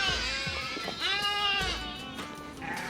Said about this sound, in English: So many sheep, so many goats right here.